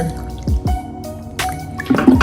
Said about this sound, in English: So we just have to put water here, cold water